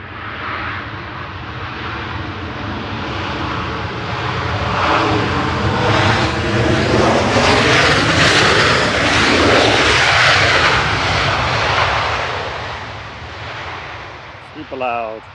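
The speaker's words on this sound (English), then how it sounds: "There's another RyanAir lands." A Ryanair jet airliner comes in to land at Manchester Airport, its engine roar swelling to a loud, close peak mid-way with sweeping tonal whine, then fading away as it passes.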